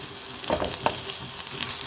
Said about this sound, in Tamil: கருவேப்பிலை சேர்த்து நல்லா வதக்கிக்கிறோம்.